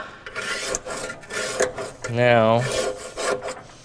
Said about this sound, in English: just a putty knife. Scrape it a little bit